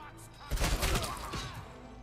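Burst of rapid machine gun fire in the RoboCop video game, loud and dense at first, then settling into a continuous rattling clatter that runs to the end.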